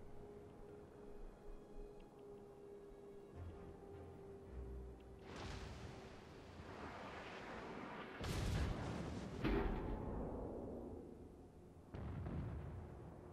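Warship guns in World of Warships boom in heavy bursts, with several deep explosive blasts and whooshing rumbles building over the middle stretch, then a last blast near the end, all moderately loud with no talk.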